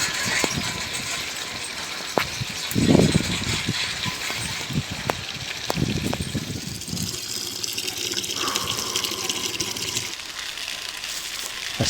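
Rainwater runs into a bucket as it is filled, a steady gush and trickle with scattered knocks and an engine or pump rumbling underneath during the Portugal wildfires of August 2025.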